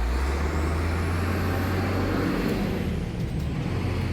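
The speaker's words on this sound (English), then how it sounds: "There's a lot of traffic here on Main Street." Heavy traffic rumbles steadily along a busy main street in Kings Park, New York, with a low engine drone that stays loud and continuous throughout, suggesting trucks or buses passing close by.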